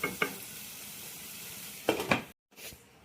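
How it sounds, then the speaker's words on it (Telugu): Onions softening in a covered pan for an Andhra-style spicy prawn curry: a faint, low hiss with a few metallic clanks of a lid or utensil, then a brief silence. "ఈ మూత పెట్టుకొని ఉల్లిపాయలు మెత్తపడేదాకా మగ్గించుకుందాం"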